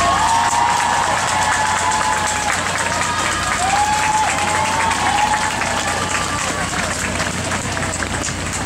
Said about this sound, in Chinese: 请再给这一些志工一个最大的掌声